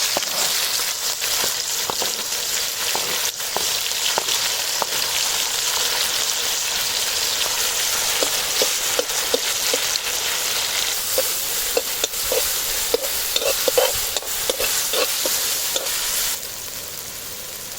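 Cumin, mustard seeds, green chili, tomato and chopped onion frying in a pan: a steady, close, loud sizzle with frequent small pops and stirring clicks throughout, fading slightly at the end.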